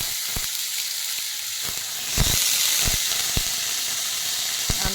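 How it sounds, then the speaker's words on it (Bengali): Potatoes sizzle in hot oil dusted with turmeric, a loud, steady frying hiss broken by sharp crackles and pops, and it swells as more goes into the pan. "একটু হলুদের ছিটকা দিয়ে দিই, নাহলে না তেল ছিটকাবে আলুটা দিলেই"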